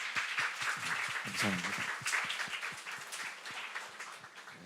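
Applause fills a church gathering as visiting guests are welcomed, with a broad wash of clapping and scattered individual claps at moderate distance while a voice speaks over it.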